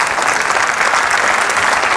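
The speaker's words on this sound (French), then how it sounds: "C'est un très grand chef. Applaudissez-le." Dense, steady applause from a theatre audience in Antibes, saluting a chef after a stage performance, filling the whole stretch with no voices over it.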